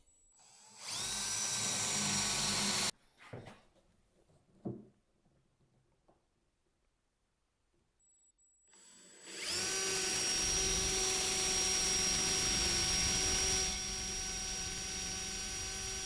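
A power drill boring holes through plywood whines loudly for about two seconds, stops amid a few clunks and handling noises, then runs again in a long steady high-pitched burst.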